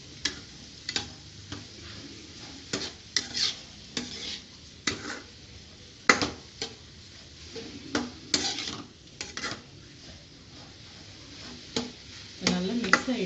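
Boiled moong dal with turmeric being stirred in a pan, with repeated close scrapes and taps of a spoon against the metal and a faint sizzle between strokes.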